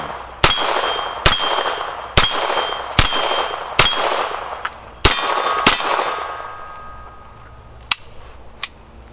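Beretta M9 chambered in .22LR firing about nine sharp shots in an uneven rhythm, each ringing off steel target plates with a bright metallic clang that decays quickly, heard fairly close and with no talking.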